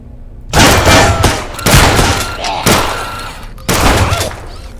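Four loud, booming gunshot blasts in the zombie shooter Zompiercer, each firing sharply then trailing off in a rumbling decay, spaced roughly a second apart and standing alone without talk.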